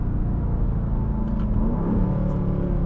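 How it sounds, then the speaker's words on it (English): A 2023 Dodge Durango SRT 392 with its V8 accelerating hard, a loud continuous engine rumble and rising roar that shifts pitch through quick, aggressive gear changes, heard from inside the cabin. "Very aggressive gear shifts."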